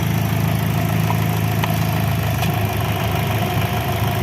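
An Opel car engine idles steadily right after a new ignition module is fitted, a smooth, even hum with a low drone, close and continuous with no talk.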